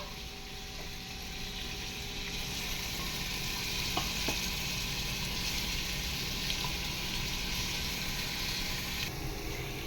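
Chicken curry cooking in a pan, a continuous steady sizzle and bubbling with faint scraping of a spoon stirring through it, close and even throughout.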